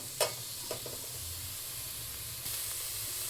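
Capsicum and carrot fry in a pan for egg fried noodles, giving a steady soft sizzle and hiss with a couple of brief clinks early on and a slightly louder stretch of frying near the end.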